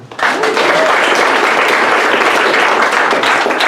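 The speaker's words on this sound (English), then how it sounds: "Can we get another warm hand for Darius and Viraj from Dropbox?" An audience at a growth engineering meetup applauding speakers from Dropbox, a dense, loud, sustained burst of clapping that starts abruptly and carries on without a break.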